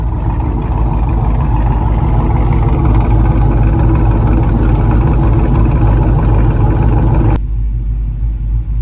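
A car engine idles steadily while warming up, a loud, close, continuous low rumble heard alone for several seconds before the sound drops off sharply near the end.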